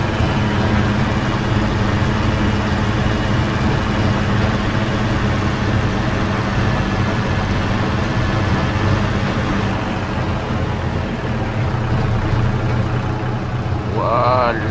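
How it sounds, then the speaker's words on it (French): A tractor engine idles in the Farming Simulator 25 video game at a logging site, a loud, steady low rumble that holds unchanged throughout the clip. "on va couper ce gentil tracteur"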